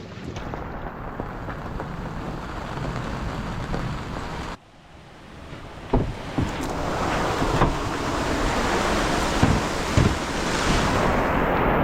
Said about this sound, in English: Well, it is pouring out. We've got a big thunderstorm that's come through.